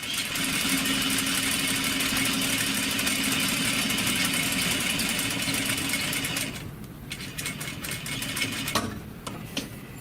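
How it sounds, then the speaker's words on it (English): Sewing machine stitching close to the seam on a fly front zipper facing, a loud continuous rapid whir for several seconds that then drops to a quieter, uneven running with a few knocks and pauses, no talk. "I'm going to stitch as close to that seam as possible."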